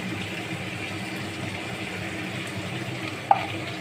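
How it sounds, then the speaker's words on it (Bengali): Katla fish with turmeric and salt fries in oil, a soft, steady sizzle heard up close, with one brief clink near the end. "এরপর এটাকে ভালো করে ভাজবো।"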